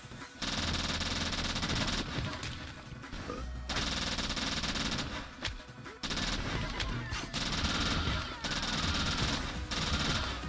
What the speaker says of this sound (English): I really want this assault rifle.